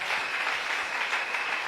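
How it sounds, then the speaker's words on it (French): Applause from a church congregation during a French-language sermon, a steady dense wash of many hands clapping together, loud and continuous without any voices on top. "Est-ce que tu peux acclamer pour la gloire de Dieu?"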